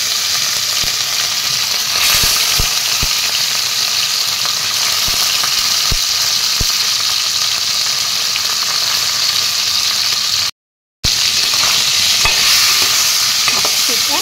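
Fish sizzling steadily in hot oil seasoned with salt and turmeric powder, a loud continuous crackle with a few sharp pops and a brief gap of silence near the end.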